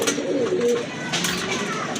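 Homa pigeons cooing nearby, soft low throaty coos running steadily through a short stretch, with faint background noise and no clear talk.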